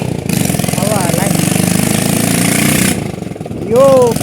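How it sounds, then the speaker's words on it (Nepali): Hero Honda motorcycle running with its silencer pipe fallen off, a loud raw rapid-firing engine clatter that holds steady, dips briefly, then resumes with someone talking over it near the end. "यो बाइकको चाहिँ साइलेन्सर पाइप झरेर यस्तो आवाज आइरहेको छ"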